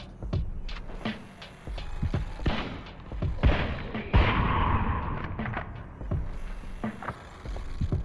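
Shotgun blasts in the video game El Paso, Elsewhere: several sharp, loud booming shots at irregular intervals over a dense game soundtrack, with no talking.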